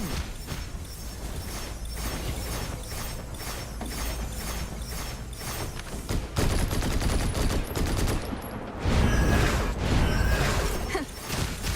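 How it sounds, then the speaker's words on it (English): A character's rifle fires in the video game Snowbreak: Containment Zone, delivering rapid automatic bursts of sharp, evenly spaced shots. The volleys grow louder after a short pause, with mechanical clicks between them. "I like her rifle sound, man."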